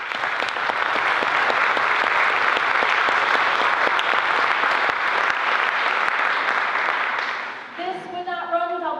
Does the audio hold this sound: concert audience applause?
yes